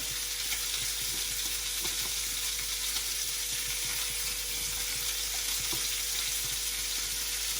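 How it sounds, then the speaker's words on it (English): Spinach cooks in a pan with a constant, even sizzle and crackle, close and steady from start to finish with no voices. "We're going to wait for the spinach to cook"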